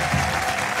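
Studio audience applauding steadily at a stand-up comedy show, dense even clapping throughout, no voices standing out.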